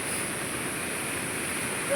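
Fast, swollen river water surging after heavy monsoon rain in Konkan, a steady loud broadband roar with no breaks, captured close and alone.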